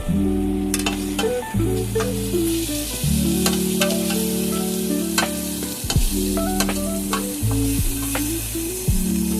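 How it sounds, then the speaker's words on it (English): Steady sizzling and frying with utensils clinking and stirring against a pan, constant crackle throughout, close and fairly loud. "I'll be frying everything up here for like 2 minutes."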